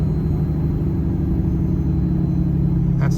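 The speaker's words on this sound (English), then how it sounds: "That's the engine brake kicking in. It just slows you right down." Engine braking on a Dodge truck with a 6.7 Cummins diesel, heard as a steady, loud, low rumbling drone that holds unbroken throughout from inside the cab.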